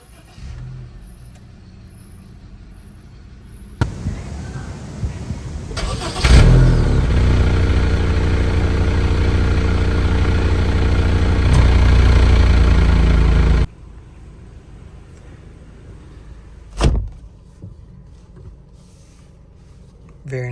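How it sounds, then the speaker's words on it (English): A 2026 Honda City S is started by push button, a sharp start-up surge followed by a steady idle for several seconds before it cuts off, with quiet clicks and interior sounds around it. "to start the engine, just put your foot on the brake and push the button to start"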